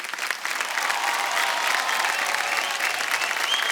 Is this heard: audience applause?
yes